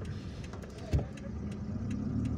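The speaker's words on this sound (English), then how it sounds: "There is traffic here." Street traffic passing through a commercial area of Kouba, Algiers, heard as a steady car and engine rumble with a single brief thump, moderately loud and continuous, with no voices.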